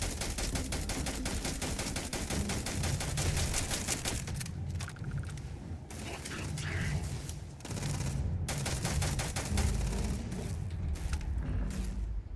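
Sustained loud gunfire in the space RPG Starfield, laid down as covering fire: dense rapid shots running almost continuously with brief lulls, layered over a heavy combat soundscape, no talk.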